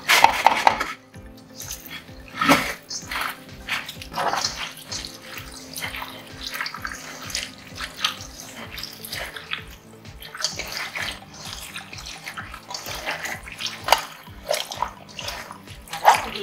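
Hot water runs and splashes in a sink while dishes and pots clink and clatter intermittently, close by and busy.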